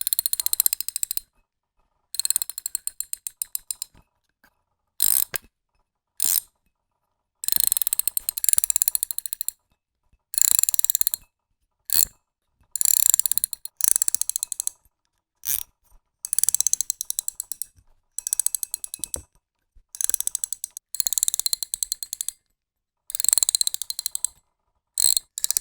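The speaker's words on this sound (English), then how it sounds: "I'll cut this so you can go from one reels drag to the next reels drag." Daiwa spinning reels in several sizes give off bursts of rapid drag clicking, each run of ratcheting clicks separated by short silent cuts as one reel gives way to the next, close and crisp with no talking.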